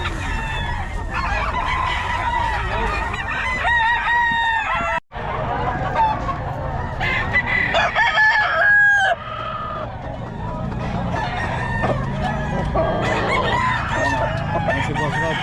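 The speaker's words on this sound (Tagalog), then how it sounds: "kompleto mga manok na ito ni Boss Rod" Several roosters crow and cluck close by in a busy poultry yard in Bocaue, their calls overlapping continuously with bursts of clucking and a few honking calls throughout.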